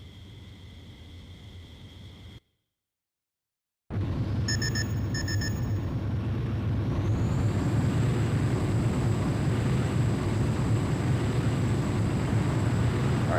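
A jet fighter in Ace Combat X2 powers up for takeoff. The engine gives a steady broadband roar that drops out briefly, then returns loud and sustained with a rising whine, and a few beeps sound over it.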